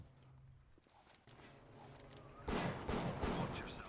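Gunshots in the shooter video game BioShock, several faint scattered shots early, then a loud burst of rapid fire in the second half, with no talk over it.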